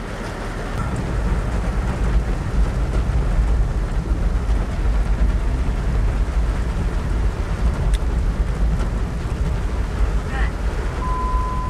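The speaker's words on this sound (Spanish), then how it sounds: "Está lloviendo tanto." Heavy rain pours down during a drive, a dense steady roar of water with low rumbling, like rain hammering a vehicle, continuous and loud throughout with faint brief sounds over it.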